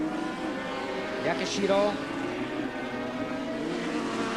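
Racing motorcycles at the 1984 Gracefield street race, among them a Suzuki GSX 700, Yamaha TZ 500 and Kawasaki GPZ 900. A steady engine drone carries a brief nearer pass midway, under continuous commentary.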